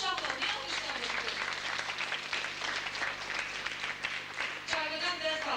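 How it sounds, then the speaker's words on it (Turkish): A crowd of children and adults at a New Year party for orphans and refugee children claps in dense, continuous applause, with voices mixed in throughout and a louder burst near the end. "Alkışlayın da şahla"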